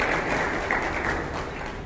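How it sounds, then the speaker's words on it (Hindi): Steady, dense applause from a gathered crowd at a Tata Motors showroom key handover in Sikri, Faridabad, holding at an even level for the short stretch with no clear whistles standing out. "तो अभी के लिए जोरदार तालियां, सीटियां, कूटिंग्स, एवरीवन प्लीज."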